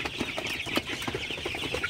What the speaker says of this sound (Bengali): আপনারা দেখতে পাচ্ছেন আমার সোনালী সুপার হাইব্রিড মুরগি